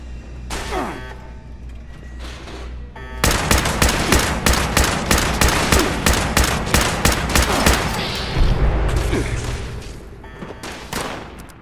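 Sustained automatic gunfire in the Fallout 76 video game crackles in loud, rapid bursts after a short quieter stretch, with booming impacts mixed in and a voice announcing over it.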